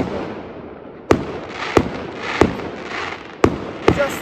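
Firecrackers go off on New Year's Eve: five sharp, loud bangs at irregular intervals, each followed by a short rumbling echo over a low background hiss.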